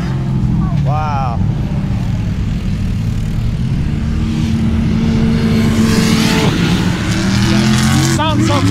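A sport quad fitted with a CR500 engine roars and revs loudly and steadily at the Silver Lake Sand Dunes, a dense close engine drone with rising whines, while people talk over it.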